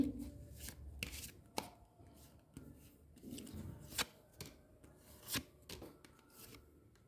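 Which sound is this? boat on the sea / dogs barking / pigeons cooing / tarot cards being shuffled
tarot cards being shuffled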